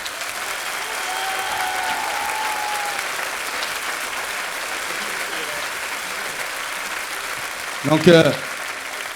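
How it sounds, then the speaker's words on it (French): Audience applauding at a marathon award ceremony, steady clapping filling the room throughout, with a voice speaking briefly over it near the end. "Je vous demande de tous applaudir Hervé."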